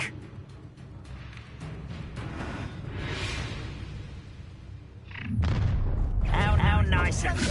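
A Confringo spell explosion in Hogwarts Legacy gameplay: rumbling blasts and whooshing bursts swell over continuous game noise, and a heavy impact lands about two-thirds of the way through, while voices are heard.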